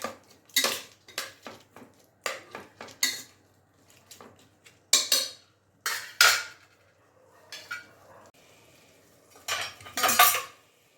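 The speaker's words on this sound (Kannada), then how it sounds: "ಟೊಮೆಟೊ ಚೆನ್ನಾಗಿ ಸಾಫ್ಟ್ ಆಗಬೇಕು, ಅಲ್ಲಿ ತನಕ ನಾವು ಎಣ್ಣೆನಲ್ಲಿ ಹಾಗೆ ಫ್ರೈ ಮಾಡ್ತಿರೋಣ ಈ ರೀತಿ" Onion and tomato frying in oil in a pan, stirred with a metal spoon that strikes and scrapes the pan in short, irregular clanking bursts separated by pauses, close and clear, with only a faint frying hiss underneath.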